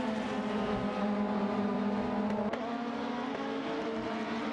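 A Nissan Primera P11 and a Peugeot 406 race in a video game, their engines holding a steady, loud whine with layered harmonic drones, a brief shift or pass near the end, and no talk.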